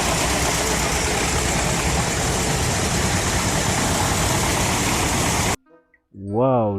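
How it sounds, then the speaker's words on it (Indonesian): A toy rice field tractor gives off a loud, steady mechanical engine drone for most of the time, which cuts off abruptly and is followed by a short voice. "Wih, ini adalah traktor sawah."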